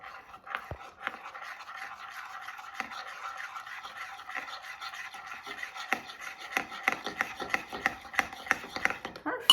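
Thick warmed honey and peanut butter being stirred together in a bowl, a steady scraping and rubbing with sticky clicks and taps that grow sharper and more rhythmic toward the end, close and alone.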